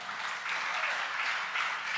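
Audience clapping at a spiritual discourse, a steady, moderately faint wash of applause that runs evenly through the whole short stretch.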